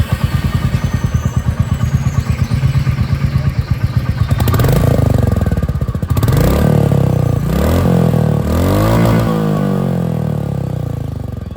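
A 2025 Royal Enfield Meteor 350 motorcycle with slipper clutch idles with a loud, steady thumping exhaust, then revs up several times in rising and falling surges close by.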